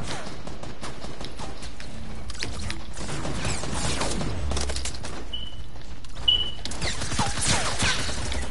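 Gunfire and explosions in the battle royale game Fortnite, bursts of rapid shots and booms scattered throughout at close range, loud and busy, with brief pauses between bursts.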